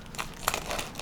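Kitchen shears snip and crinkle through a sealed plastic sous vide bag holding a rack of lamb, a brief faint crunching of plastic with a sharper cut in the middle.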